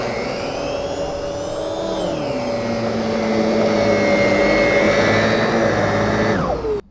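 A Zero-G F3d floating vacuum cleaner runs steadily close by as it pushes under a bed with about four inches of clearance, its motor whine shifting slightly in pitch before cutting off abruptly near the end.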